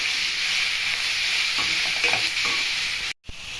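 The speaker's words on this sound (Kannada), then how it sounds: "ಹೀರೆಕಾಯಿ ಬೇಳೆ ಬೇಯಿಸ್ಕೊಂಡಿರೋದು ಇದ್ದೀನಿ ಚೆನ್ನಾಗಿ ಒಂದು ಹತ್ತು ನಿಮಿಷ ಫ್ರೈ ಮಾಡಬೇಕು" Ridge gourd with cooked lentils frying in a pan, giving a steady close sizzle with scraping stir strokes throughout and a brief silent break near the end.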